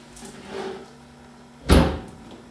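A rear leaf spring's center knob drops into its slot on top of the differential, a single solid, close clunk after a quiet moment with a faint earlier rustle.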